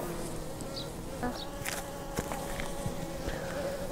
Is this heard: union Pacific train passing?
no